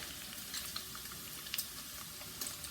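Bacon frying in oil in a pan, a steady close crackling sizzle with occasional sharper pops, continuous and fairly quiet with no voices.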